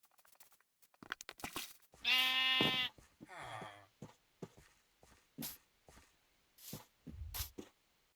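Sheep bleating in Minecraft (Bedrock Edition), one long wavering bleat followed by a shorter one, mixed with soft scattered footsteps and clicks of in-game movement.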